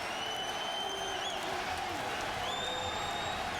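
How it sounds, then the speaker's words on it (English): A crowd at a mixed martial arts fight roars and cheers in a large arena, a dense, sustained wash of voices and some clapping with faint whistles. "as the crowd comes alive"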